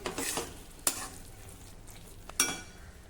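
Ridge gourd sabzi mixed with roasted peanut powder, stirred in a pan: soft, quiet sizzling under two distinct spoon scrapes, one early and one near the end, with no voices.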